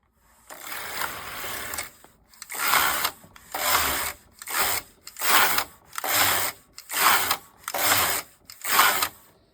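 A Singer Superba knitting machine working rows of English rib, the carriage swishing back and forth in eight even passes with short pauses between, loud and close with no talk.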